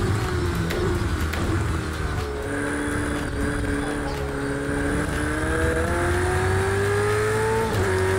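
Race car engine in the video game Project Cars 2, loud and close, revving steadily with rising and falling pitch as gears change, a brief tire squeal, with no talking.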